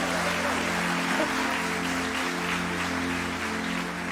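Church congregation applauding during a worship service, a steady wash of clapping over a low sustained hum, continuous throughout.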